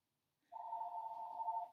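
A single telephone rings once, a steady electronic tone held for just over a second after silence, clear and fairly close, alone without talk.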